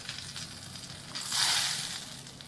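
Sizzling hot oil poured into a flour mixture for Malvani khaja, a soft crackle that swells into a brief bright hiss and then fades, close and alone.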